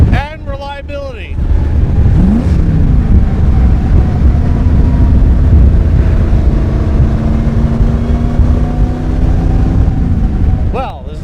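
A 1952 Allard J2X roadster's 340 hp Hemi V8 is revved and held in a steady, loud drone for several seconds before dropping off, after a short burst of talk at the start and another at the end.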